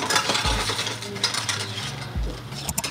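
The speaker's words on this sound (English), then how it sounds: "So you're gonna add some ice in the glass." Ice cubes dropped into a cocktail glass while a drink is built, giving a few quick clinks and rattles over a low steady hum, with no talking.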